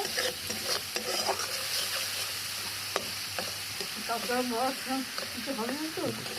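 Green bananas and spices stir-fried in a pan, sizzling steadily with scraping stirs and a few sharp taps, voices talking over it.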